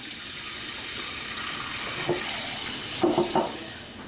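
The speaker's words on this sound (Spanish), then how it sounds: "Aquí vamos a poner agua para poner el pechuga de pollo para hacer enchiladas" Tap water runs into a cooking pot filled to boil chicken breast for enchiladas, a steady hiss with a couple of brief clunks of the pot near the end.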